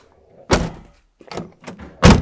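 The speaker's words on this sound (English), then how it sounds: "when I push the door in" Door of a BMW E36 fitted with carbon fiber door panels being pushed shut: three solid thunks, the first and last loudest, with softer rattling knocks between them, close up and without talk.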